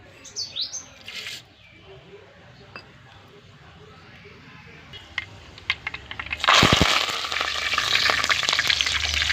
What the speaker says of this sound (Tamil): நம்ம குழம்ப தாளிச்சிக்கலாம் பாருங்கள் ஜீரகம் கடுகு வெந்தயம்